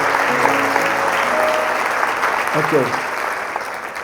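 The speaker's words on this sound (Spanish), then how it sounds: "Den un aplauso fuerte al Señor" A church congregation applauds in a steady, crowded wash of clapping that holds throughout, with a voice briefly speaking over it near the end as the applause slowly fades.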